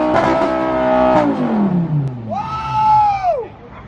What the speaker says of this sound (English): That's that Italian exhaust system right there.